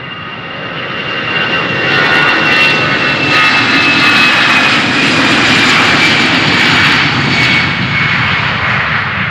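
A jet airliner takes off from runway 36L at Amsterdam Schiphol Airport, its engine roar swelling loud and broad, peaking mid-way, then holding as a powerful sustained rumble and whine.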